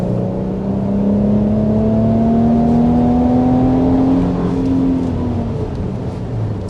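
A 2025 Infiniti QX80 engine pulls hard under acceleration, its loud, close whine rising steadily in pitch for several seconds before easing off, with no talk.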